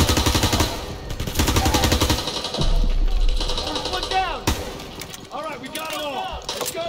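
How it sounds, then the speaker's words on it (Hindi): Rapid machine-gun and rifle fire comes from the front in Call of Duty WWII, loud and sustained with heavy bursts and cracks, while voices talk over the shooting. "फायर फिर सामने से आ रहा है फायर"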